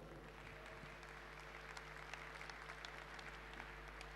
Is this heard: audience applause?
yes